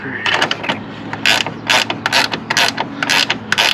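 A ratchet clicks in rapid bursts while tightening a nut on a Ford Mustang's aftermarket euro-style tail light, with close, loud, repeated ratcheting strokes and short pauses between them.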